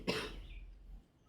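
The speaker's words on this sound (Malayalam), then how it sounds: "തുണീൻ്റെയൊക്കെ പൊടി കാരണം ചുമ മാറണില്ല." A single allergic cough caused by cloth dust, one short burst close to the microphone that fades quickly into quiet room noise.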